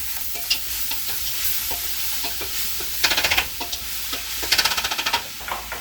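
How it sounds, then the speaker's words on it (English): A spoon stirs butternut squash soup in a pot, the contents sizzling steadily underneath, with bursts of rapid scraping strokes against the pot. "get that mixed up real nice"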